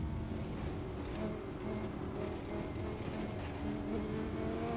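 A Lamborghini Huracan GT3 racing in Assetto Corsa, its engine a steady, quiet high-revving drone with shifting pitch held throughout, alone without any talk.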